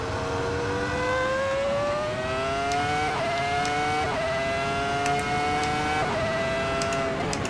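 A Super GP race car's engine drones through an outlap in Assetto Corsa, a loud, steady mechanical whine that climbs in pitch through each gear and drops briefly at several quick upshifts, with no talking.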